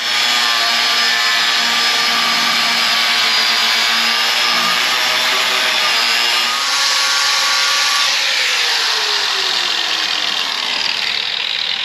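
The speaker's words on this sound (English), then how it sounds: "Cut off pretty quick with that cutoff blade." A cutoff blade grinds through a metal jack stand, giving a loud, continuous high-pitched whine with a gliding tone that drops as the cut progresses, heard alone with no voices.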